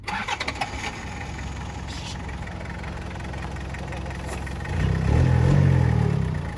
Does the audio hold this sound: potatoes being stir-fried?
no